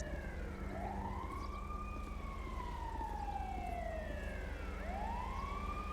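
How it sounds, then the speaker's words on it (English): Ambulance siren in the FivePD police game, a loud wailing tone sweeping slowly up and down twice over a steady engine rumble, with no talking. "Looks like the ambulance should be pulling right around the corner here."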